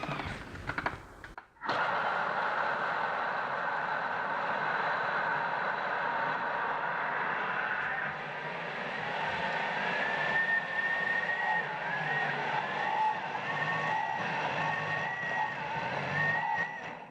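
A food processor blends a vegan BBQ burger mixture with rice and beans, a loud, steady motor roar and whine that starts abruptly after a brief bump and runs continuously, close and alone.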